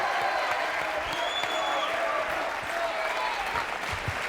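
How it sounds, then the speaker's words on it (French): A French TV studio audience gives continuous loud applause, a thick even roar of clapping from a large crowd with a voice faintly audible underneath. "Applaudissements encore, s'il vous plaît, pour Franz"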